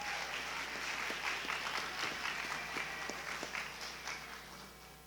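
An awards-ceremony audience applauds runners-up at a state history competition: a sustained, fairly distant crowd of clapping hands with some sharper individual claps, tapering slightly near the close.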